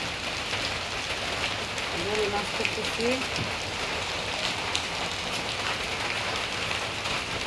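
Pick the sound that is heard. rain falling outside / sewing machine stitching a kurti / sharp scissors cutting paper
rain falling outside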